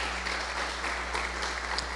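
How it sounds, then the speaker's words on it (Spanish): Church congregation clapping in thanksgiving during a sermon, a steady crowd of hands heard fairly faintly over a constant low electrical hum. "Dele un fuerte aplauso al Señor en acción de gracias."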